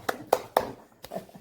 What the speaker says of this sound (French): On applaudit Étienne.